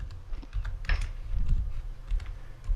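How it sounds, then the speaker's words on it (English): Computer keyboard typing picked up by a desk-mounted mic: a quick irregular run of clicky key presses, fairly close and moderately loud, alone with no talk. "keyboard's getting loud as well"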